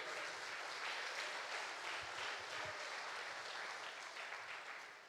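A church congregation applauds during a Portuguese-language sermon, a sustained wash of clapping from a large crowd that holds steady and tails off slightly at the end.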